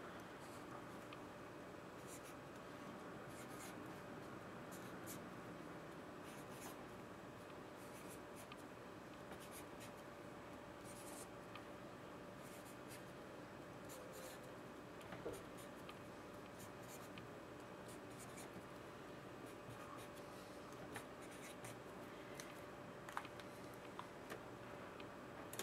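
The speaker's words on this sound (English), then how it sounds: "Hold on, I gotta write them first." Handwriting with a pen during a baseball card group break, a soft continuous scratching under a steady background hum, faint and close throughout.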